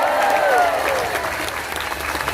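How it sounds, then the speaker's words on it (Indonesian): Loud sustained crowd clapping greets fan groups at a religious gathering, steady and dense throughout, a brief whistle near the start, no talk over it. "Nah, yang terakhir harus kenceng tepuk tangannya, Zahid Mania."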